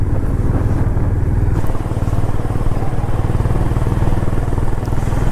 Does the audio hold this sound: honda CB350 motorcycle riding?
yes